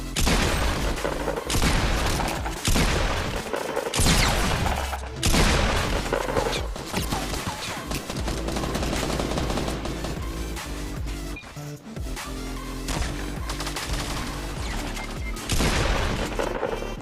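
Loud, dense Fortnite gunfire with repeated sharp pump-shotgun blasts in rapid bursts over continuous game noise, with no pauses between shots.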